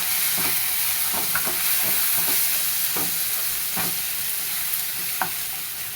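A brinjal and potato curry with Kashmiri red chilli and spice mix is stirred in a hot pan, giving a steady sizzle broken by repeated scraping strokes of the spoon at an even pace, close and with no talk.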